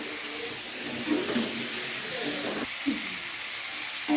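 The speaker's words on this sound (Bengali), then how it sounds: "এই যে আলু আর পটলগুলো ভালো করে সাঁতলে নেব, সাঁতলিয়ে নামিয়ে নেব।" Potatoes and pointed gourd, salted and dusted with turmeric, sauté in a pan with a steady close sizzle and occasional soft stirring scrapes.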